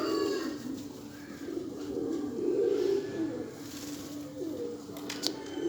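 Two pigeons cooing in a steady low, throaty murmur while they fight, close and continuous with soft rustling underneath, no other sounds standing out.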